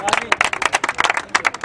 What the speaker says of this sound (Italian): Un applauso ai secondi classificati